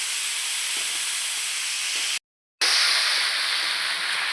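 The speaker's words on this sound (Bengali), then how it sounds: "লঙ্কার গুঁড়োটা দিয়ে একটু ভাজা ভাজা হবে" Tomato and chili powder frying in a pan for a fish curry, a loud, even hissing sizzle heard up close, cut by a brief silent gap midway.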